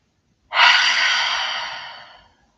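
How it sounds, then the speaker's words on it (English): A single slow, deep breath, a soft airy exhale that swells quickly and then tapers off gradually over about two seconds, close and alone in an otherwise quiet room. "And slowly begin to deepen your breath."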